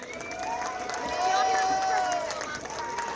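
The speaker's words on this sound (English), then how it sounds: "Let's give another round of applause for the Pike Central Marching Band" A high school football stadium crowd cheers and applauds the Pike Central Marching Band, a broad wash of clapping and shouts swelling mid-clip, with a voice calling out over it.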